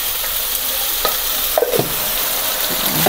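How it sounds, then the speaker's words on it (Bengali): Spice paste for chicken curry sizzles and fries loudly in a pan, a steady crackling hiss broken by a few scraping stirs of a spatula, with no talking. "পেশা মশলা ডালে তারপর মশলাটা ভালো করে ভেজে নেব"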